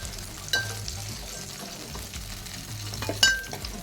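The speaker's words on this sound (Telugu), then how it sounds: "యాడ్ చేసుకొని వాటికి కొంచెం లైట్గా సాఫ్ట్ అయ్యే వరకు ఫ్రై చేసుకోవాలండి" Red chillies frying in oil in a pan, a continuous close sizzle with low bubbling and two sharper metallic clinks of a utensil against the pan, no talking.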